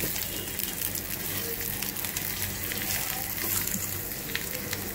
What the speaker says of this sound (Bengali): এই তো এভাবে করে আমি সবগুলোকে হালকাভাবে ভেজে নিব